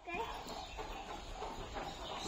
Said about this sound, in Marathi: आणि हे आहेत आमच्या घरच्या कोंबड्या आणि त्यांची पिल्लं.